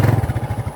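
A motorcycle engine runs close and loud, with a steady pulsing throb.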